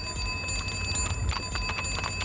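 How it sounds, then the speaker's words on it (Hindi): A small bell on a horse-drawn tonga cart rings in repeated bright dings amid street bustle, fairly close and steady without talk. "चाहे कितनी भी घंटी बजा ले"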